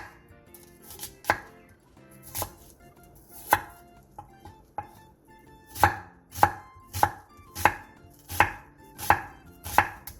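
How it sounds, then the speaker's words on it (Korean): A knife chops an onion steadily on a cutting board, sharp close thuds, sparse at first and then a quicker regular run of cuts near the end. "양파 2분의 1개에 화면처럼 칼집을 넣은 뒤 쫑쫑 썰어 잘게 다져주세요."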